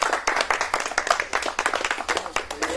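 Brisk clapping from a small crowd honouring petanque tournament winners, quick uneven claps close by with a few voices in the background.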